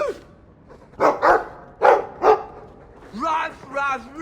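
Dog barks from the game Dragon Age II, two pairs of short sharp yaps followed by whining, yelping dog sounds, over a quiet game soundtrack.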